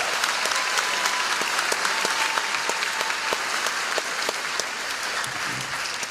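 Steady applause from a graduation commencement audience, dense clapping that holds at an even level for several seconds without cheering or voices on top.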